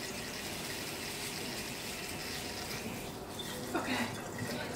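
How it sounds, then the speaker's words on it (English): Water from a tie-dye soak poured out of a container after twenty minutes, a steady broadband gush and splash running throughout at close range, briefly louder near the end. "pouring the water out, and then you rinse with cold water"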